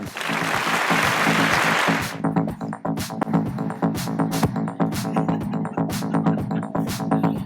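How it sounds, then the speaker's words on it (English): An awards-night audience at the Bollywood Hungama Style Icons Awards 2025 gives Akshay Kumar a dense, loud burst of applause for about two seconds, then the clapping cuts off and stage music with a steady beat takes over. "round of applause for Akshay Kumar"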